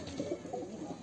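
Soft, low pigeon cooing in short murmuring bursts, close by over a faint background hiss.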